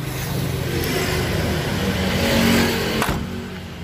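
A Mitsubishi Colt T120 engine running steadily with a smooth, even drone, rising slightly then easing off, heard from inside the vehicle.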